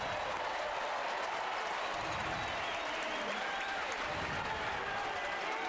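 A sellout baseball crowd at AT&T Park in San Francisco, during a tied Cardinals–Giants game, keeps up a steady wash of cheering and applause, distant and fairly soft, with no clear peaks.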